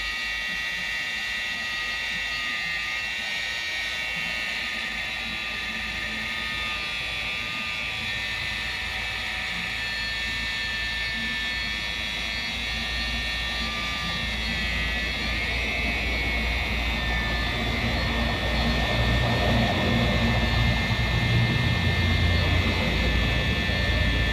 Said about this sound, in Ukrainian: Вмикаємо нашу булгарку із новим диском і далі починаємо точити.